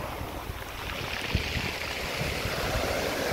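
Sea waves and strong wind on a beach at Lazarevskoye near Sochi, a steady rushing wash of surf and gusting air, fairly low and continuous with no voices.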